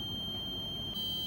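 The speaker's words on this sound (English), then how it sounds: "the buzzer has gone off as the water has reached its desired level" A continuous high electronic buzzer tone from a water level alarm going off as the tank reaches its set level, steady and moderately loud with a brief dip near the end, no talking.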